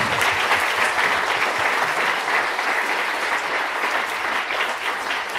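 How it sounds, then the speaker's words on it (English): An audience applauds panelists at a teach-in with trans folks and allies, a dense, steady clapping that stays loud and close for the whole stretch. "Let's give a big round of applause for all of our incredible panelists."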